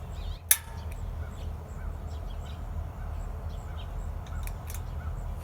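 Birds call outdoors near a wok burner setup, with a few faint, scattered chirps and caws over a steady low outdoor rumble, plus one sharp click near the start.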